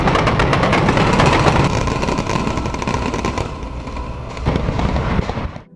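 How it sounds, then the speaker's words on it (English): A loud, dense barrage of fireworks goes off during the controlled demolition of the 1905 Wellington Hotel, rapid crackling bangs that ease off partway through before a final burst and a sudden cutoff. "They planned a loud fireworks display to go off with the controlled demolition"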